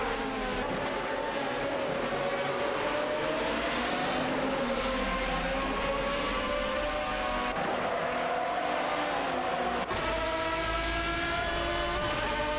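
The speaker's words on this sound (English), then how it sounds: "Ready to watch some AI race cars zoom by?" Race cars in an AI-driven racing event roar continuously with loud, rising and falling engine pitch as several cars zoom by on the track, no talking.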